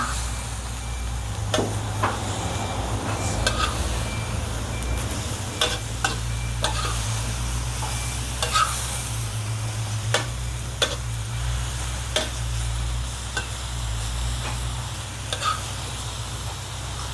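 Vegetables stir-fried in a pan for a Thai dish, giving a steady sizzle with sharp clicks of a utensil scraping the pan and a low hum running underneath throughout.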